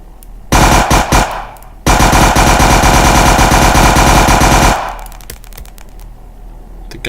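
Automatic rifle fire in a zombie video game: a short burst, then a long unbroken rattling volley of rapid shots, loud and close, ending in scattered faint clicks and thuds.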